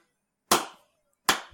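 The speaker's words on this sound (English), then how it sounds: "Slow clap," Two sharp hand claps spaced well apart, loud and close with nothing else around them, a deliberately slow, sarcastic clap.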